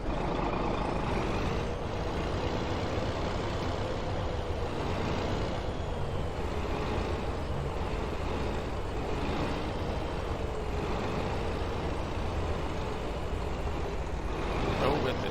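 A Freightliner Classic XL truck in American Truck Simulator rumbles steadily with a deep engine drone throughout, and faint beeping surfaces at times beneath a voice speaking.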